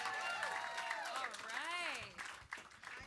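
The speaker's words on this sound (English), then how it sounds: "Big round of applause for our dancers tonight" A studio audience at the PNC Live Studio claps for dancers, the applause mixed with loud whoops and cheering voices that rise and fall over it, then fading toward the end.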